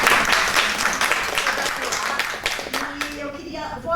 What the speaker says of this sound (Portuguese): eu acho que merece uma salva de palmas